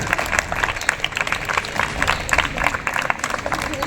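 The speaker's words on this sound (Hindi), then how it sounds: "जोरदार तालियां।" Schoolchildren applaud the chief guest at a school ceremony, a moderately loud crowd of clapping hands with uneven, slightly rhythmic bursts, heard alone with no talk.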